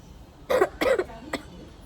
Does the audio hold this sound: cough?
yes